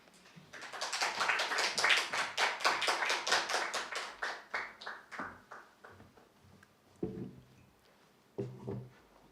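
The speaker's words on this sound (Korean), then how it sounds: "전사님 나오실 때 큰 박수로 환영하고 말씀 듣도록 하겠습니다" A church congregation at an early-morning service claps to welcome the preacher, a brisk burst of many hands that swells quickly, then thins and fades into a few scattered claps.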